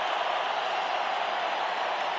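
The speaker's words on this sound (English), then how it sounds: "I was just listening to that big round of applause for the left back" A stadium crowd at a football match applauds as a left back is substituted off, heard as a steady, dense wash of clapping and cheering from a large crowd, continuous and even throughout.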